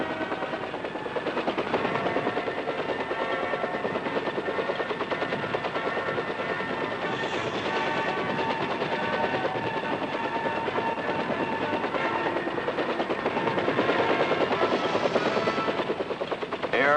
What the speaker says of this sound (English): The UH-1 helicopter, or Huey, was proving itself as the Army's versatile workhorse